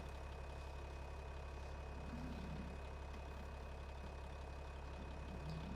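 Tractor engine in Farming Simulator 25 running at a steady low idle, a faint continuous rumble and hum with no voices over it.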